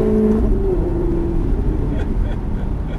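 Maserati GranTurismo S engine accelerating during a driving session, a loud low rumble that drops in pitch as the revs change, heard from inside the car while people talk over it.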